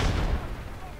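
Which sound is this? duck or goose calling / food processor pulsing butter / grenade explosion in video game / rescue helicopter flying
grenade explosion in video game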